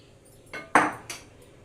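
A cake tin filled with batter is tapped against a kitchen surface to knock out air bubbles, giving three short, hollow metallic knocks at close range, the middle one loudest, with no talking over them.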